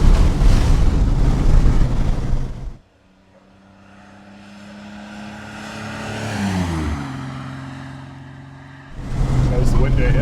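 A 1971 Mercedes-Benz W108 280S with manual gearbox climbs a hill, its engine note rising steadily in pitch under load between stretches of louder cabin noise and road roar, heard from inside the car.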